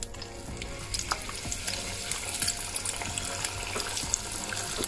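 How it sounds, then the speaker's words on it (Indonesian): Corn fritters (bakwan jagung) made with little flour and no egg fry in hot oil, giving a steady close crackling sizzle with scattered pops and no talking. "Kita panaskan minyak lalu goreng."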